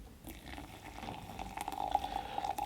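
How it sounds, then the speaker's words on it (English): Hot water is poured into an AeroPress coffee maker, a soft steady trickle that grows slightly louder toward the end, close and quiet with no talking. "I'll pour 200 ml of water here."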